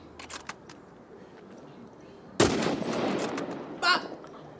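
Gunfire in The Last of Us Part 1 comes as one loud, sharp blast with a short decaying tail. A second, smaller burst follows, with faint clicks before both shots and no talk in between.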